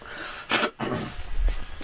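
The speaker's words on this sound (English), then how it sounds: "excuse me, let me clear my throat." A person clears their throat, one short harsh burst followed by a second rougher rasp, close and fairly loud, in a quiet room during a dance lesson.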